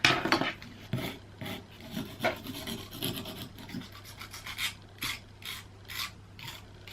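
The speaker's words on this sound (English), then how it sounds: "let's try buffing this down a bit" Rasping, scratchy buffing of acrylic on a nail training finger, with repeated short back-and-forth strokes close up, some louder bursts and brief pauses, with no one speaking.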